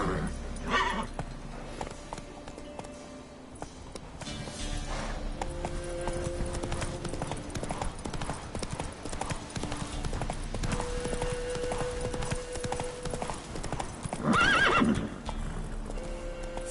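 Roach, Geralt's horse in The Witcher 3, galloping with rhythmic hoofbeats under a steady game backdrop, a whinny rising near the end, and a voice speaking briefly over it.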